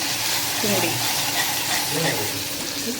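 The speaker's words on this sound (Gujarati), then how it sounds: "આ તેલ અને બટર હતું, એમાં ગઈ લસણ" Garlic frying in a pan of hot oil and butter, a dense, steady crackling sizzle close up, with faint stirring clatter underneath and no one speaking.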